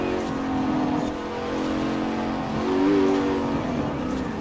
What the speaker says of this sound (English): Just dabs of the throttle once we're actually moving, and just pulls so hard past the other cars